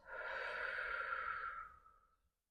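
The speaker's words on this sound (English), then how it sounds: "breathing out" A single slow, deep exhale during a guided breathing exercise, a soft breathy rush lasting about two seconds that fades out into silence.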